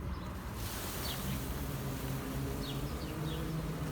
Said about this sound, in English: so the bees are not wanting to sting me